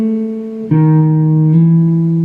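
Guitar legato phrase of hammer-ons and pull-offs in even rhythm, three sustained ringing notes changing cleanly with soft attacks, played alone and close.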